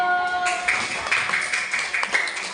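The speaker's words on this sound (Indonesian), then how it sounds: "Kasih tepuk tangan dulu." Brief round of hand clapping from a classroom group during a lesson, with a quick spread of close, bright claps that starts after a short pause and carries on evenly for about two seconds.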